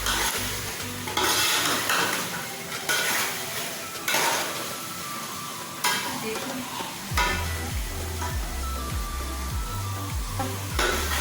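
Biryani masala stir-fried in a pot for chicken pulao: a steady close sizzle with repeated spatula scrapes and stirring strokes against the pot, and no talking.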